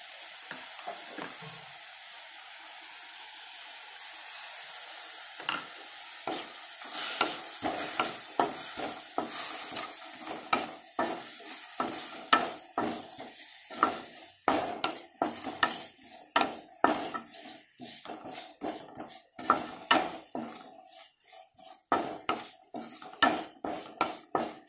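A spoon stirs gongura pulihora, sorrel leaf rice, in a pan: scraping and clinking strokes that start sparse and build into a quick, steady rhythm, moderately close with light sizzling beneath.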